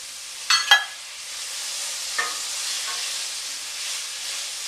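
Peppercorns and caper berries fry in a pan over medium-high heat, giving a steady sizzling hiss punctuated by a few brief pops and crackles near the start.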